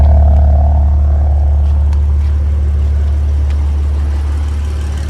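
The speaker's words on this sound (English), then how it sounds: "As you all can hear, it's idling like a newborn baby." A BMW M4 with the S55 engine idles smoothly after a VANOS solenoid replacement, a steady loud low rumble with an even, unbroken tone close by and no voices.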